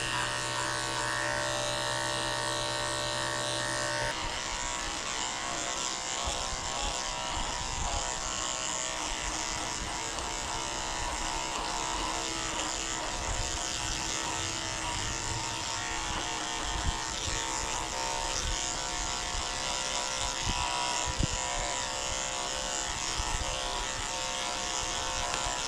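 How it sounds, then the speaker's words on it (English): Electric clippers fitted with a 10 blade shave the belly of a Yorkie, a steady close buzz that holds almost unchanged throughout with only slight shifts in pitch as the blade moves. "Shave the belly out too with a 10 blade"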